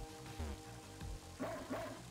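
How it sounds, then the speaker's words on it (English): A stray dog barking in the video game Mother 3, a few short, tonal, synthesized yips and woofs in quick succession, clean and up front. "Bow Wow. Hi, I'm a stray dog."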